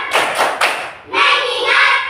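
Rhythmic classroom clapping chant, a few loud claps in a patterned beat followed by a sustained burst of clapping from many children together, close and lively.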